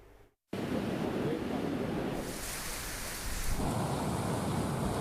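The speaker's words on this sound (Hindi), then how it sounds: "सुबह 6:30 बजे से वहां पर बरसात हो रही है और तेज हवाएं चल रही हैं।" Heavy rain and strong winds lash Mumbai during Cyclone Tauktae, a dense, steady roar of downpour and gusts that cuts in loudly after a brief quiet start and continues without letup.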